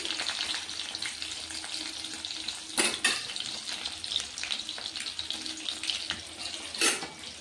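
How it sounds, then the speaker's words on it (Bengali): Two bata fish fry in a pan with a moderate crackling sizzle, broken by a couple of sharp spatter bursts. "রান্না করছি বাটা মাছের ঝোল, একবেলা খাবো, তো দুটো মাছ ভেজে নিচ্ছি"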